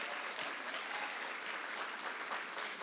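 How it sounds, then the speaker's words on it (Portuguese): A church congregation applauds at a worship service, steady dense clapping held at an even level throughout with no voices standing out. "Glória a Deus, aplauda o Senhor."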